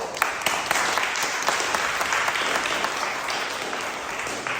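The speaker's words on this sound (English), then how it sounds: "can you give yourselves a big round of applause?" A room full of people applauds themselves at the close of a legislative theatre session, a dense steady wash of clapping with a few sharper individual claps standing out throughout.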